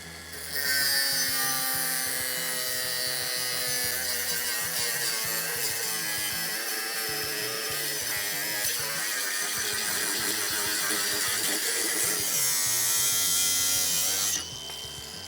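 A cordless Procraft angle grinder cuts through a 100 mm steel channel in one steady, loud, high-pitched whine that runs about fourteen seconds before stopping abruptly.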